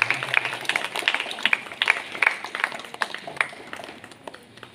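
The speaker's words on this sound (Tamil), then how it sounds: "கைத்தட்டி நம்முடைய நன்றிகளை தெரிவித்துக் கொள்வோம்" A church congregation claps to thank the priests during a feast celebrating Our Lady of Good Health's birthday; scattered, uneven handclaps patter through the hall at moderate volume, thinning out toward the end.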